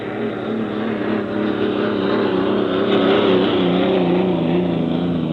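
Racing hydroplane Miss Budweiser, gold, white and red, roars past during 1964 Seafair time trials in Seattle, a loud sustained engine drone with steady pitch wavering, continuous and alone without talk.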